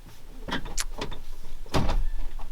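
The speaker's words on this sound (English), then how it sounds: "Don't shut that door, and guess what? I shut the door." A campervan door is shut with a couple of sharp, loud thuds and rattles, close by, separated by short pauses of creaking and shuffling.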